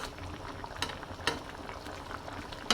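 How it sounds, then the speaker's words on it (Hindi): Pieces of fish fry in a pan with a steady close bubbling sizzle, broken by a few brief sharper crackles and stirring clinks. "थोड़ा थोड़ा करके भून लेती हूँ"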